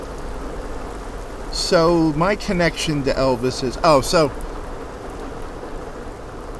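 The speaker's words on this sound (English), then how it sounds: "raining pretty good." Steady rain falls outdoors by misty water, a constant broadband hiss running under the whole stretch while someone talks over it in the middle.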